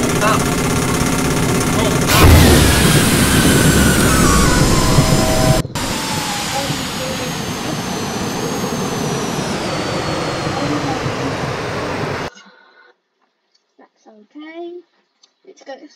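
A jet airliner roars loudly during its takeoff roll in the X-Plane 11 flight simulator at Lamoal airport, a dense sustained engine rumble that cuts off abruptly near the end, leaving brief quiet talk.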